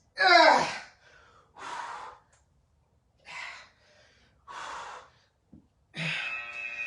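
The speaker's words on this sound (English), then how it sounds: "Breathe through it, breathe through it." During a HIIT workout a person breathes heavily, with about six separate loud gasping exhalations and inhalations spaced by short pauses, close and with no other sound.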